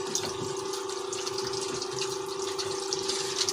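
Water running steadily out of a mouth-free automatic siphon hose, a soft continuous trickle and splash with a faint steady hum.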